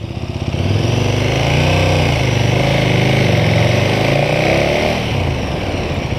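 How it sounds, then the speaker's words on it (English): Motorcycle pulling away from a stop as the clutch is let out, engine note rising steadily and loud and close after a brief quiet start, holding strong through the pull before easing slightly near the end. "if I let it out fast, the rate of acceleration that I get from that is directly a result of how quickly I release the clutch."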